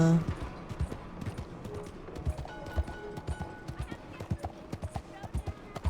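Rhythmic clip-clop of horse hooves at a gallop in Red Dead Redemption 2, steady and fairly close, with game sound effects and light chimes in the background.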